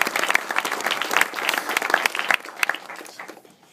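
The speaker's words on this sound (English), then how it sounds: "I think we should give him a round of applause" An audience breaks into warm applause for an honored craftsman, a dense wash of clapping that swells and then thins toward the end, with no talking over it.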